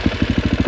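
A Sherco 450 SEF enduro motorcycle engine idles loudly up close with a steady, rapid low thumping pulse; the bike is prone to cutting out.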